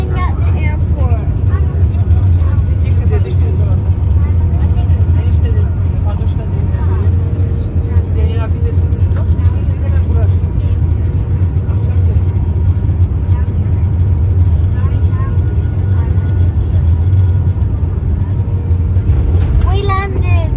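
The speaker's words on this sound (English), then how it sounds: "We're just landing at the airport." A British Airways Airbus A319 airliner lands, heard from the cockpit as loud, steady low engine and airflow roar throughout, with crew voices talking over it.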